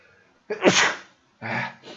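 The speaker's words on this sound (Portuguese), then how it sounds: "eu vou espirrar" A single sharp sneeze bursts out close and loud during a Portuguese-language calculus lesson, with a brief breathy follow-up sound shortly after.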